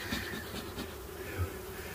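Honeybees buzz around two hives as honey supers are added, a steady low hum of many insects filling the whole stretch at a fairly even level.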